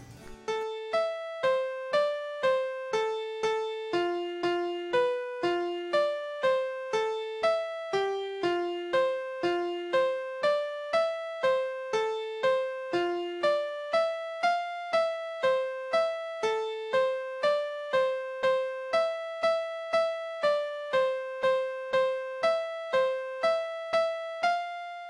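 A simple melody of evenly spaced, plucked keyboard-like notes plays steadily and alone, each note sounding crisply and decaying before the next.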